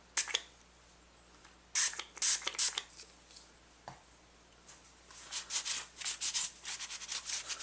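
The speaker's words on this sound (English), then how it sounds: "I'm going to use the M Pro 7 again and just spray it in" Several short hissing bursts of M Pro 7 cleaner sprayed into the chamber of a KelTec SUB2000 at close range, separated by quiet pauses, followed by quick rubbing and scraping sounds.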